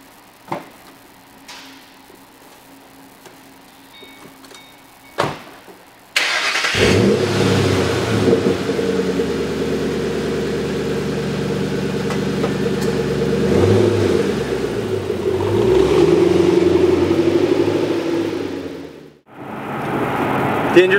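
Ford Mustang GT with a 4.6 V8 and modified intake and exhaust, heard from about seven seconds in as a loud, deep, sustained engine roar that climbs and swells under acceleration. Before that come a few brief clicks and thumps, and the roar drops away near the end.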